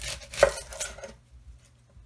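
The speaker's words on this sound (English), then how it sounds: "Start by chopping off the root end and the stem end." A few sharp knife chops through a red onion on a cutting board, one loud thunk followed by lighter cuts, then near silence.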